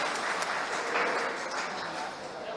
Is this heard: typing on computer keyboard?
no